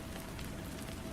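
Rain tapping against the windows of a precinct, a dense steady patter of drops at a soft even level.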